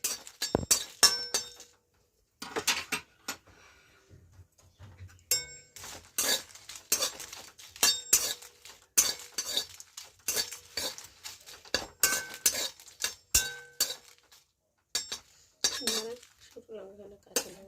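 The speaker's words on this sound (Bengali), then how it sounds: "শুকনো কলায় শুকনো লঙ্কা ভাজা হচ্ছে।" Dry red chillies fry in a wok over lowered gas for a winter dried-fish bharta, stirred with sharp metallic clinks and scrapes that come in irregular bursts with short quiet gaps.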